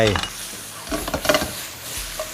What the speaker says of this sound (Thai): นี่ซอสเริ่มเดือด ชา ๆ ผมก็ใส่ปลาลงไปครับ